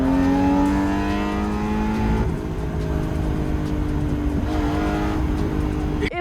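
A BMW E36 car accelerates while being driven, its engine note rising steadily in pitch, dipping at a gear change and climbing again, loud and close inside the car.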